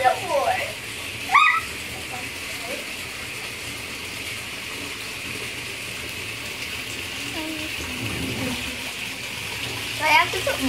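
Water pours into a bathtub in a steady, continuous rush that lasts the whole stretch, with brief voices of a child and an adult at the start and end.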